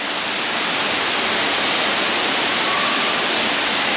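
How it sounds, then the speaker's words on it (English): A waterfall in Singapore, seen from the top, roars as a steady, loud, broadband wash of falling water that stays constant throughout with no talk. "this is the waterfall view"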